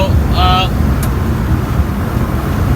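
A Honda Acty kei mini truck cruising at about 70 km/h on a curvy highway, with a steady engine and road drone heard from inside the cab.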